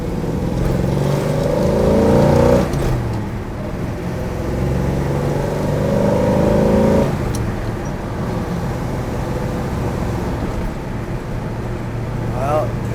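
A 1971 Chevrolet Nova with a 350 V8 and four-speed manual drives along, its engine note rising under acceleration, dropping at gear changes and climbing again, with someone talking over the steady motor drone.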